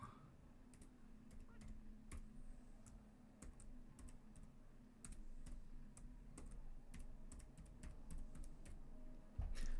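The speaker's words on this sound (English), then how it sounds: "Typing away with one finger." Computer keyboard typed with one finger while playing online chess: sparse, irregular single key clicks, close and fairly quiet, over a low steady hum.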